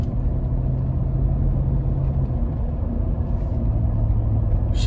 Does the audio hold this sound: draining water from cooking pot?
no